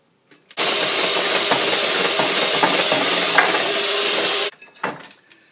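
Electric mixer whisking sponge cake batter with eggs, a loud, close, steady whirring buzz that runs for about four seconds, then cuts off abruptly.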